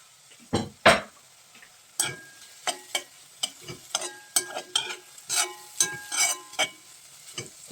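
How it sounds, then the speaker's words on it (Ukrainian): Vegetables for pumpkin soup sizzle and crackle in a frying pan, with repeated sharp stirring scrapes and clatters at an irregular rhythm, close up. "овочі наші підсмажуються вже, шкварчить тут уже все"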